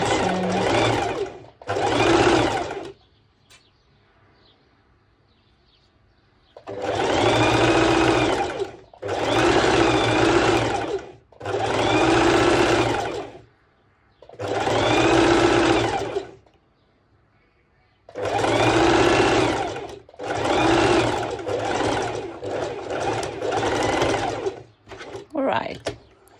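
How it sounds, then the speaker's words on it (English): Sewing machine zigzag stitching hoodie fabric with lowered thread tension, running in several loud bursts of a few seconds each with short pauses between, close and steady, with no talk. "So zigzag stitching is done"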